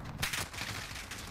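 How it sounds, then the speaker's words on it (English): Gunshots crack from behind the player in a battle royale shooter, a quick cluster of several fairly faint reports in close succession amid battle noise. "Dude, I got shot from the back"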